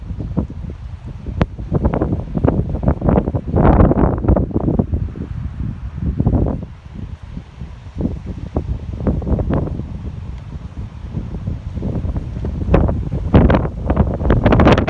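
Strong wind blows steadily across a farm paddock where livestock are being fed, roaring and buffeting the microphone with gusts that swell and ease throughout.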